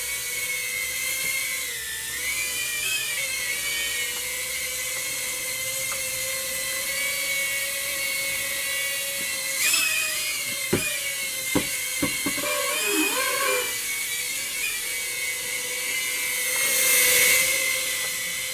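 A Rage RC Triad pocket FPV drone spins up its tiny motors and flies, giving a steady high-pitched whine that bends in pitch as the throttle changes, with a few sharp knocks and a louder surge near the end.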